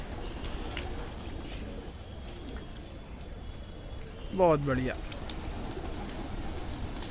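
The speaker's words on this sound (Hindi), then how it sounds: "ये आ गए सारे कबूतर" Pigeons coo in a brief burst midway through, heard against steady background noise, with a voice speaking briefly.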